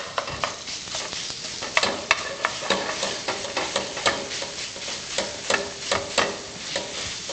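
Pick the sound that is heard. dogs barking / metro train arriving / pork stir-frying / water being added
pork stir-frying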